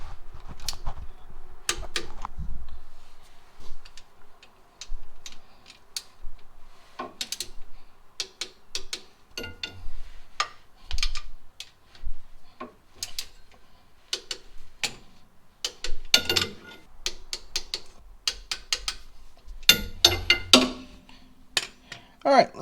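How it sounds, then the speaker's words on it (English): Torque wrench tightening the rear differential pan bolts on a 2015 Ram, giving a close, steady run of sharp mechanical ratcheting clicks and ticks in irregular bursts, with a few louder knocks near the end. "let's go ahead and torque them down"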